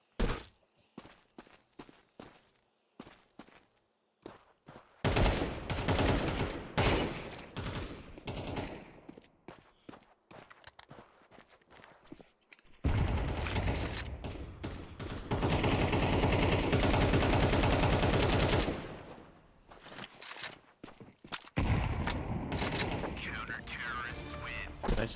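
Bursts of video game gunfire and a grenade blast crash through in loud, dense stretches, broken by sharp single shots and shorter gaps, with a voice talking over parts of the action.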